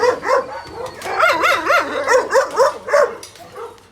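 A 48-pound female Sorrells-line game dog barks and yips repeatedly up close in a kennel yard, a rapid run of short, excited barks with whiny tones.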